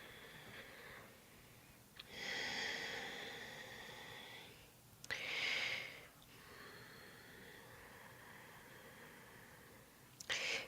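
Slow, deep breaths in a quiet yoga studio: three long airy exhales or inhales, each lasting a couple of seconds, separated by soft pauses, close and fairly clear with no talking.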